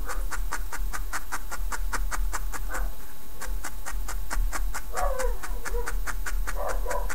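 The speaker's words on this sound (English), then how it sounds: "Puppy's just barking." A puppy barks in a quick, regular series of sharp yips, nearly a dozen and a half evenly spaced over several seconds, at moderate distance against a steady background hum.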